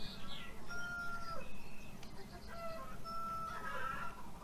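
Chickens cluck in the video game Beyond Eyes, with a series of short, bright hen calls coming in bursts over soft background ambience.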